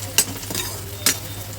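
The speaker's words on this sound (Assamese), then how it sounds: "পিঁয়াজখিনি অলপ লাল হোৱালৈকে ধুনীয়াকৈ ভাজিব লাগিব" Onions and cumin frying in a pan, with two sharp stirring scrapes standing out over a low, steady sizzle and background hum.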